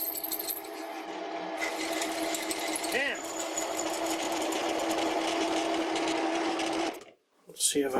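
A drill press running at 350 RPM on a mini-grinder tool holder build, a steady close mechanical whine with a rising pitch sweep near the three-second mark, cutting out abruptly just before the end.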